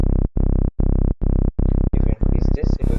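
Serum synth saw bass with FM warp from oscillator B, played as a run of loud, buzzy sustained notes separated by short gaps, the later notes gaining brighter, more ragged overtones.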